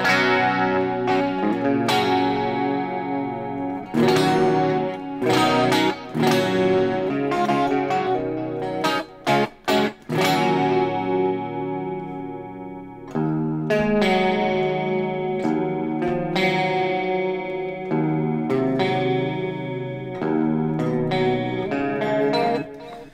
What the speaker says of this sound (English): But you should hear the delay.